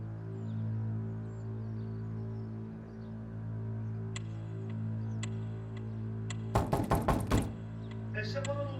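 Police knocking hard on an apartment door in a Turkish drama series: a quick burst of loud raps, heard from inside over a steady electrical hum.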